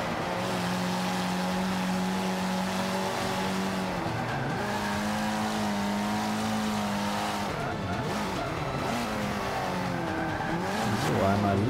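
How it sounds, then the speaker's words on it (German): A race car accelerating in the Forza Motorsport 5 racing game, a loud steady engine drone rising in pitch, gear changes near the middle, continuous for several seconds with a brief tire squeal. "Jetzt einmal hier schön beschleunigen, auch wenn der Wagen jetzt nicht so eine tolle Beschleunigung hat."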